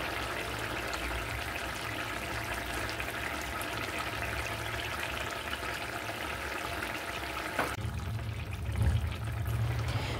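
Ghee being poured into a simmering pot of potato, pea and paneer curry, a steady soft trickle and bubbling throughout, with a brief louder splash near the end.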